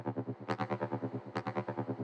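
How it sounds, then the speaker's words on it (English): Unprocessed rolling bass sample plays alone: a pulsing, distorted synth bass with rapid evenly spaced throbs and a brighter accent that recurs about once per second, fairly quiet throughout. "The rolling bass sounds like this."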